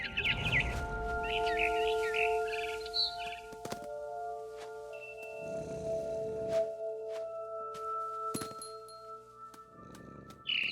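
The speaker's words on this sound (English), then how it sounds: "Then I heard chirping outside my window. It was a barn swallow going back to her nest." A barn swallow chirps in the video game What Remains of Edith Finch: a few quick, quiet chirp bursts near the start, then sparse soft sounds over low sustained ambient tones.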